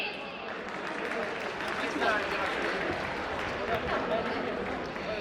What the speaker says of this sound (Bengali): আমরা করতালি দেই।